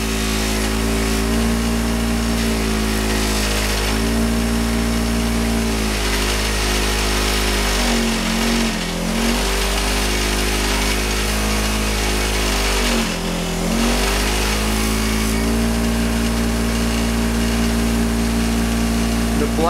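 Loud, steady motor whine from a buffing wheel cutting an aluminum motorcycle wheel with black compound. The pitch sags briefly twice as the wheel is pressed harder into the work, then recovers.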